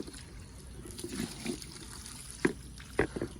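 Clean fresh water pours into a backyard chicken feed trough for naked neck chicks, heard as faint, scattered splashes and trickles over a soft, steady background hiss.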